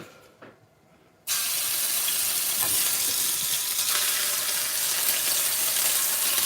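Ginger garlic paste goes into oil at 180 degrees for a vindaloo, bursting into a sudden loud, continuous hissing sizzle after a brief quiet moment, close and sustained with no speech.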